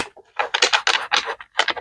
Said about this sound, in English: I'm just shuffling a little bit more here